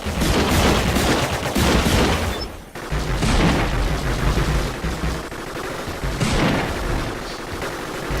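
Repeated shotgun blasts from robot combat in the strategy game Gladiabots, loud dense bursts of gunfire with a brief gap, continuing steadily without talk.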